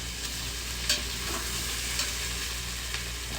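Vegetables tipped into a hot Instant Pot after sautéing, with a continuous close sizzle and a few sharp stirring knocks against the pot.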